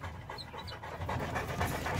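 A Boerboel dog pants rapidly and steadily up close on a farm, a continuous rhythmic huffing lasting a couple of seconds with no talk over it.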